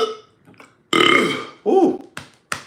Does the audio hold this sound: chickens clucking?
no